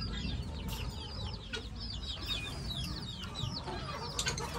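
Chickens and chicks cluck and peep steadily at a rural Pakistani homestead, a dense chorus of short calls over a constant low background rumble, with no talking.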